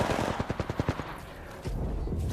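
Automatic weapon fire in the Apex Legends video game, a rapid burst of about ten close, loud shots, followed by a brief pause and a lower rumbling tail.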